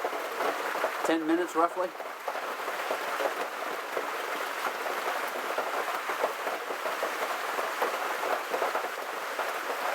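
Steady rain and wind outdoors make a constant hissing wash of noise, with someone talking briefly near the start.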